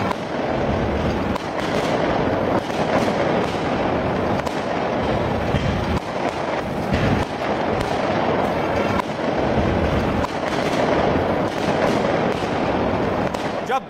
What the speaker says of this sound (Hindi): आतिशबाजी हो गई थी, लोग पटाखे फोड़ रहे थे